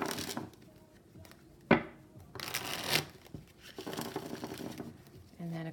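Quick shuffle of a deck of cards, several short riffling bursts and soft patters close to the microphone, with faint voice murmurs in between.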